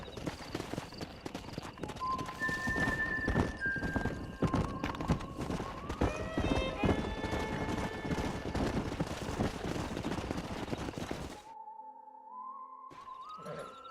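Horses gallop in Red Dead Redemption on Xbox One, a dense, loud clip-clop of hooves with whinnies and neighs rising over it, before the hoofbeats cut off and a softer tonal passage follows.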